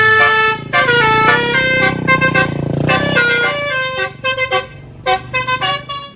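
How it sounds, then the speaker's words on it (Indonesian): Toy telolet bus horn playing a loud, close, bright multi-tone melody, long held notes at first giving way to quick choppy bursts with short gaps. "Di sini ada mobil bus telolet"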